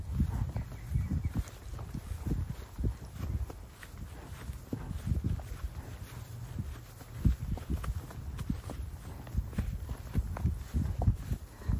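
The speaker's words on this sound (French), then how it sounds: "un tout petit poney." A very small pony walks outdoors near bushes, its soft hoof falls landing in an uneven, repeated rhythm on the ground, close and fairly quiet, with light wind rumble and rustling around it.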